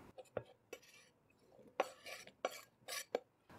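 Cut potatoes are scraped from a board into a bowl with a utensil. Faint, scattered clinks and scrapes come in short, irregular bursts.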